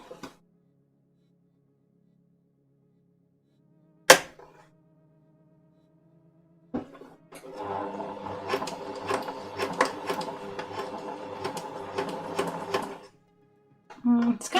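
A sewing machine stitches a pin-tuck shirt, starting after a few clicks and a sharp knock, then running in a steady rapid mechanical whir for several seconds before stopping and briefly restarting at the end.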